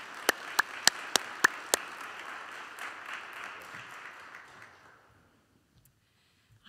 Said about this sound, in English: why don't we offer a clap offering of praise to the Lord for Courtney this morning